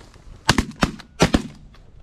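Shotgun shots ring out during goose hunting over a fresh cut corn field: two quick pairs of loud, sharp blasts, close by, with faint reports trailing and no talking.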